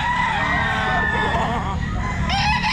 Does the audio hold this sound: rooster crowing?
yes